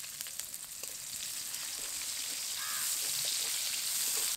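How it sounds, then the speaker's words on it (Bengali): Finely chopped onions frying in oil for a village-style fish curry, giving a steady close hiss and sizzle throughout, with a brief faint bird call partway through. "পেঁয়াজটা ভাজা হয়ে এসেছে,"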